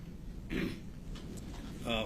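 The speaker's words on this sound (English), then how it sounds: "excuse me for the cough" A man coughs briefly a couple of times during courtroom questioning, sharp and close, with a low murmur in between.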